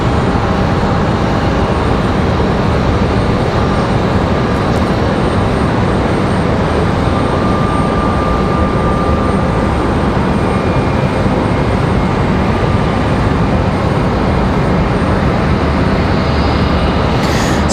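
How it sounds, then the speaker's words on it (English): A Delta airliner from Minneapolis on final approach to land at Raleigh-Durham airport, heard as a loud, steady broadband roar of jet engines throughout, with no voices over it. "We do have Delta on final."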